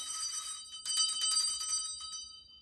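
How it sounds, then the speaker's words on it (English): A small hand bell rung as part of a home ritual calling in the elements, giving a bright metallic ringing with several strikes that shimmer and fade, clear and close with no talking. "ring a bell."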